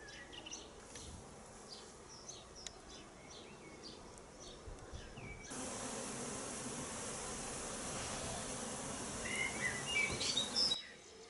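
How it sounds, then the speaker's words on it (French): Honey bees buzz at the entrance of a hive, a steady, low, faint drone that grows denser and louder partway through. Outdoor bird chirps sound in the background, and nobody speaks. "les abeilles ont beaucoup plus de place pour pouvoir rentrer et sortir dans la ruche"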